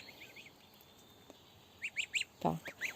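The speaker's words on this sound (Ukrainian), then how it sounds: "важкі гусенятка, гарно набирають жирок, а потім наросте і м'яско" Young goslings raised on a farm give a cluster of short, high peeps and a few honks close by, coming in quick bursts after a quiet start.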